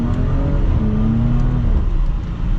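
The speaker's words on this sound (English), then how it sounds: "Let's get our full-blown acceleration here with the Cayenne S." A Porsche Cayenne S with a 2.9 liter V6 accelerates hard. It gives a loud, continuous engine drone whose pitch rises steadily through the whole stretch, heard from inside the car with no talking.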